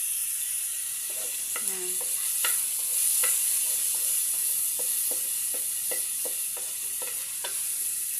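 Chopped onion and garlic sautéing in a pan for a bitter gourd stir-fry, a soft steady sizzle under a bright hiss, with repeated light scrapes and taps of a spatula stirring close by, one brief word spoken early.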